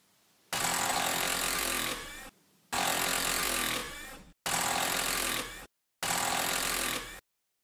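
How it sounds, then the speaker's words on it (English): Four separate bursts of a small power screwdriver spinning out screws from the back cover of a Godox WB26 battery, each whirring run lasting one to two seconds, loud and close, with short silent gaps between. "remove the back cover of the WB26 by removing the six screws as shown here."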